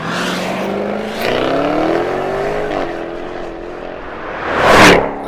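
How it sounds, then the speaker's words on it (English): A 2021 Jaguar F-Type R accelerates hard, its adjustable exhaust roaring and its supercharger whining upward in pitch. A short pause comes before a loud swell near the end, like the car rushing close by. "Accompanied by a glorious roar from the adjustable exhaust and screaming whine from the supercharger"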